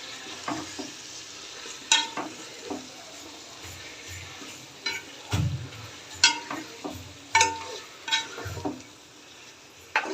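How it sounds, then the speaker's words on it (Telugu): Mutton is stirred into fried onions in a pot, giving soft steady sizzling broken by repeated close scraping and clattering strokes of a spoon at an irregular rhythm. "మటన్ వేసి బాగా కలుపుకోవాలి."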